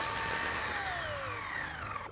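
A 12V electric fishing reel motor whines steadily up close as it winds in line from a deep-water drop of around 1000 feet, its pitch sliding gradually downward.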